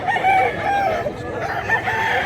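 A rooster crows at a chicken market in Mantalungon, Cebu, its drawn-out calls blending with other birds and the noisy market crowd, none of them standing out strongly.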